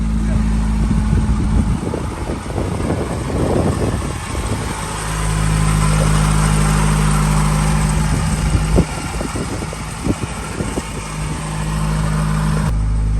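A 1989 Honda Accord LXI engine starts and settles into a steady, low idle nearby, a constant hum that runs under intermittent talking.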